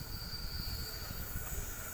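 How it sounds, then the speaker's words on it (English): Sydney K-set electric train arriving at Punchbowl Station, a steady low rumble of wheels and motors with a faint high whine, continuous and fairly distant throughout. "Train coming. And it's K-set."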